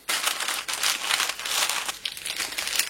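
Crinkling baking paper pressed under a rolling pin flattening a sheet of mashed potato for a minced-meat roll, a steady close rustle with irregular crackles and no talk.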